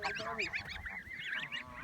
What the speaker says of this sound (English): It's been a nice day, just feeding the birds.